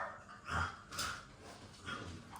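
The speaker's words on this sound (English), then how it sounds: "Sorry for the barking." A few dog barks ring out, somewhat distant and moderately loud, spaced about half a second apart.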